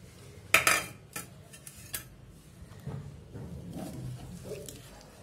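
A spoon clinks and scrapes in a bowl as chopped onions are stirred into curd and salt. The strokes are quiet and irregular, with a couple of sharper knocks near the start.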